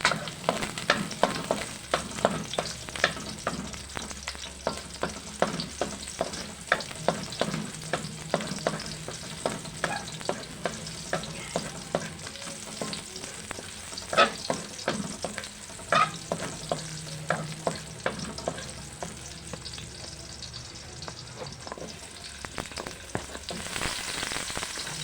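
Garlic being sautéed in a pan gives off a steady, close sizzle with a brisk, rhythmic run of spatula scrapes and taps as it is stirred continuously, with no voices.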